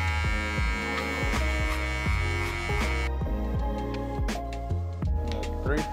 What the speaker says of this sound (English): you gotta give the clipper time to work